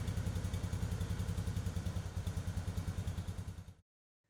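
A Polaris Ranger SP 570 utility vehicle engine runs at a steady idle, loud and close, with an even rapid pulsing throb and some clatter, then cuts off abruptly into silence near the end.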